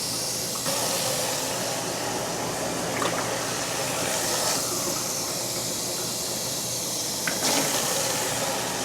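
Three cups of water pour into a pot for wonton soup, a loud, steady rushing hiss that runs almost unbroken for several seconds with no talk.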